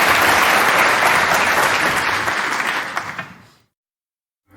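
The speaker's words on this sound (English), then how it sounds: "let's give a round of applause for Carl." A crowd applauds loudly and steadily for a few seconds, then the clapping thins out and fades into silence.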